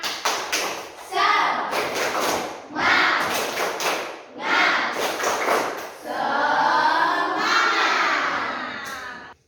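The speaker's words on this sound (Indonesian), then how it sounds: "Ya, tepuk semangat anak-anak" Schoolchildren in a class do a rhythmic spirit clap in bursts of loud, patterned claps, joined by shouting and chanting voices. Short pauses separate the clapping rounds.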